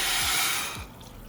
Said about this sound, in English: we're going to go ahead and add our water